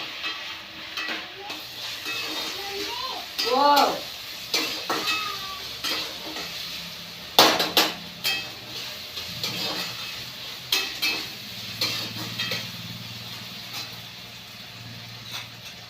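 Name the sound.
tomatoes added to frying pan, sizzling and stirring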